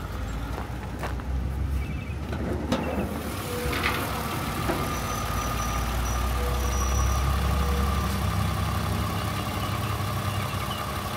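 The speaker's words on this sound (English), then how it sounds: "today we have a 2007 Lexus ES350. It's an automatic, six-cylinder." 2007 Lexus ES350 with its 3.5-liter six-cylinder engine running in a steady, low hum, with scattered clicks and knocks near the start.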